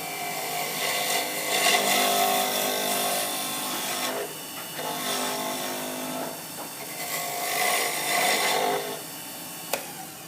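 Wooden pen blank turning on a lathe while a dull-edged tool shaves it, giving a continuous close scraping hiss that fades briefly twice before picking up again.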